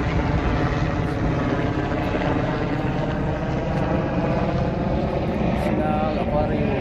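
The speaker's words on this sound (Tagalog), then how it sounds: "Ay, helicopter." A helicopter passes overhead near a bridge by the sea at the National Aquarium, a steady dense rotor and engine roar that stays loud and unbroken throughout.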